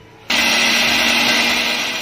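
A kitchen blender kicks on abruptly and runs at a loud, steady high-pitched whir, grinding soaked mustard, cashew and green and dried chillies into a paste, with no talk over it.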